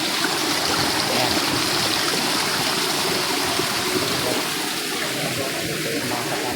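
Water flows steadily through a stream inside a cave, a continuous close rushing wash that stays loud and even from start to finish with no voices.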